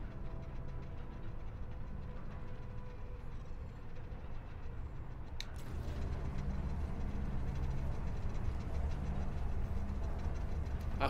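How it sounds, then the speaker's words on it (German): In the video game Jedi Survivor, a heavy train-like rumble rolls steadily and grows louder after a sharp metallic clank, a low continuous roar with no voices. "Ach, das ist wie ein Zug"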